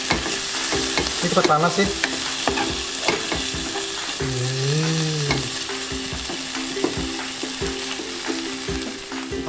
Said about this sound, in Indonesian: Kita aduk sebentar.